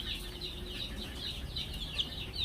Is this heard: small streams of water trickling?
no